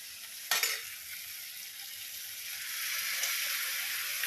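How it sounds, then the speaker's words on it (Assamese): Duck meat drops into hot oil in a wok for an Assamese duck curry, setting off a sudden loud sizzle that settles into steady frying with light stirring scrapes. "এতিয়া আমি হাঁহৰ মাংসখিনি দি দিম ইয়াত।"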